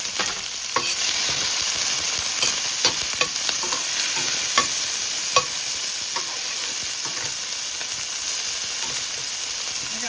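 Vegetables and cooked shrimp stir-fry in a hot pan for okra-style frying, with a dense, continuous sizzle and sharp scrapes and clicks of stirring throughout.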